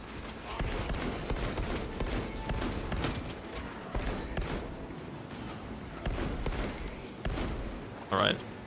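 Sniper rounds crack out again and again in the Space Marine video game, sharp repeated shots scattered through dense battle noise, with someone talking over the action.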